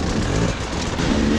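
A dirt bike engine on a steep hard enduro trail in the Alestreme, a loud, close, continuous drone that barely changes over a short moment.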